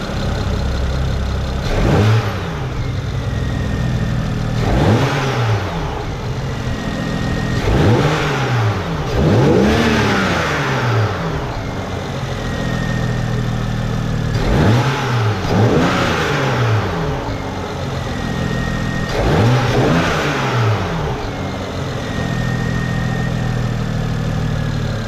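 A BMW E92 with new air filters revs repeatedly from idle, sharp surges rising and falling roughly every few seconds, loud and close, with no talk over it.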